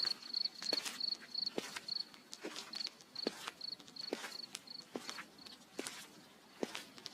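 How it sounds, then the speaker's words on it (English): Crickets chirp steadily in short repeated pulses, joined by scattered soft footsteps or rustling taps throughout a quiet outdoor scene. "The cricket's chirping fades, the rustle of leaves stills."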